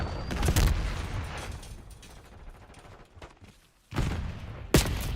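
Gunfire in the Black Ops 6 beta during a multiplayer zone-capture match: sharp loud shots in short bursts at the start and again near the end, with a quieter stretch of game noise between.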